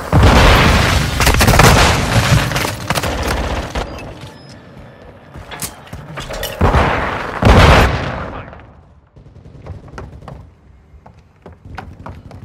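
A flashbang grenade goes off during a Call of Duty MW2 Hardpoint match, a loud concussive burst amid dense gunfire and booms, followed by scattered shots and quieter clatter.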